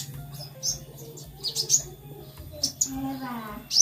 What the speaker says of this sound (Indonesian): yang dihalang ya sama kerodong itu juga burung sogon ya. Nah itu juga bunyi ya